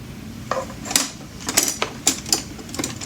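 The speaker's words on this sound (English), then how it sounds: "I'm going to get out a spatula, and I'm going to rinse my spatula off." Metal kitchen utensils clatter and clink as a spatula is pulled out from among them, a series of bright, irregular taps and rattles close by, with no talking.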